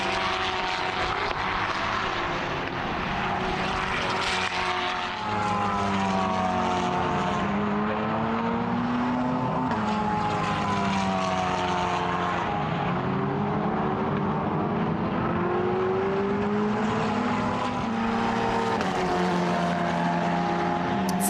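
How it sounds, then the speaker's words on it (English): Formula race car lapping the Portimão circuit during a Hoosier Formula Cup qualifying session, its engine holding a continuous loud whine that rises and falls with gear changes and corners for the full stretch, alone with no talk. "This is Nano Lopez we're following at the moment, looking to get pole position out there"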